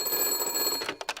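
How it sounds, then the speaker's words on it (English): A telephone rings in the stop-motion Wallace & Gromit film The Curse of the Were-Rabbit, a bright, bell-like trill that breaks into short repeated bursts near the end. "He's about to absolutely just go for it there and then when suddenly the phone rings."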